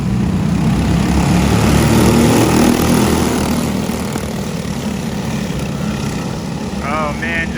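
Several go-kart engines drone loudly together at a race start, a dense, steady buzzing roar that eases slightly in level partway through and holds on to the end.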